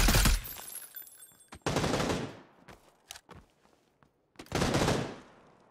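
Bursts of automatic gunfire in the battle royale video game PUBG, played on Xbox: three loud, close volleys with short pauses and scattered single shots between them, no talking.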